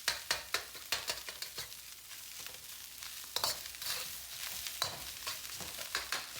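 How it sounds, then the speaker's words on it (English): Egg is broken up and stirred through frying leftover rice in a pan, with repeated sharp spatula scrapes and taps over a steady sizzle, close and alone. "I'm gonna have to kind of mix that egg up to get it chopped up"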